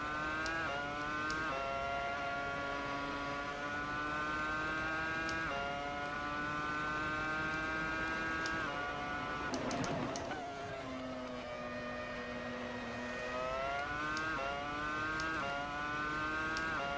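A Williams FW26 Formula One car's engine in the racing sim Assetto Corsa screams at high pitch, rising through the gears with sharp shifts and a dip into braking near the middle before revving back up, steady and close throughout.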